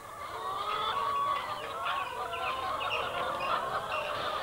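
Laying hens cluck in a farmyard barnyard, a dense, continuous chorus of overlapping clucks and squawks at moderate distance with no talk.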